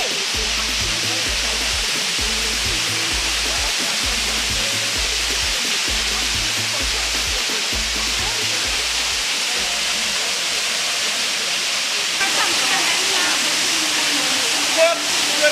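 A waterfall in a village roars as a continuous, dense rush of water that stays loud and even from start to finish, with faint low thumps in the first part.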